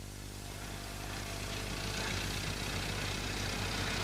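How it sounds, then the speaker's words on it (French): A car engine hums steadily and grows slightly louder, a continuous low drone with no voices. "c'est bien le bruit d'un moteur de voiture."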